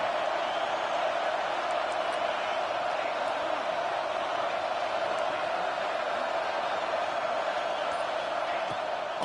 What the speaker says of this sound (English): Listen to this crowd just shaking the corners of this place